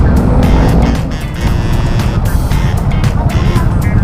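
Busy road traffic with cars and motor vehicles rumbling close by in a loud, continuous wash of engine and tyre noise, with passing surges and no clear talk.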